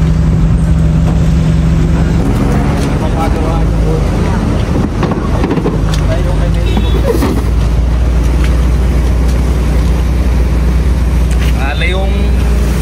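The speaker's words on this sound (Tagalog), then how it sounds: "Yung parang puro traffic." Street traffic rolls past on a stroll, with a constant loud engine rumble and wind buffeting the microphone. People talk over the passing vehicles.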